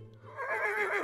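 A horse in the video game Star Stable gives one rising whinny that swells and wavers near the end, close and fairly loud with no voices over it.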